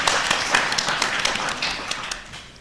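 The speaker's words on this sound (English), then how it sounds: "I think that deserves a round of applause." An audience at a comics convention panel claps for a last-minute replacement panellist, producing a dense, close burst of many overlapping hand claps that carries on steadily throughout.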